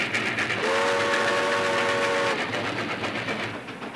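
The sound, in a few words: trains passing by the old Pittsburgh depot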